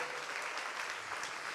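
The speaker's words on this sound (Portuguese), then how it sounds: "Se você crê nisso, aplauda ao Senhor." A church congregation applauds during a sermon, a dense, steady wash of clapping that holds at an even level throughout, with no speech over it.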